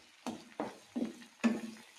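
Ingredients for a homemade hair oil fry in oil over a flame, heard as four brief spluttering bursts of sizzle separated by short quiet gaps, close and fairly soft.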